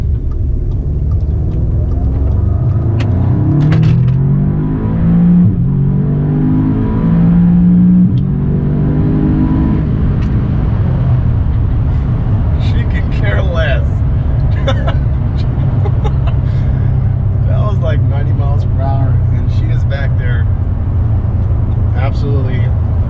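APR Stage 3+ tuned Audi S3 accelerating hard from inside the cabin, a loud sustained engine roar and rising drone that climbs through the gears, with people talking and laughing over it.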